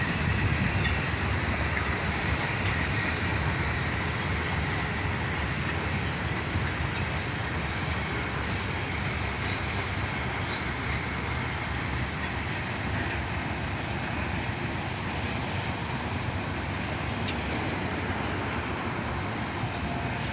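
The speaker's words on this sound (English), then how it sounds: "we had what I thought was a ballast train, but the end of it had the Lorem shoulder ballast cleaner on the end" A ballast train with a Loram shoulder ballast cleaner at its tail rolls past, a continuous loud rumble and grinding roar of rail cars that holds steady without letup, close by and free of talk.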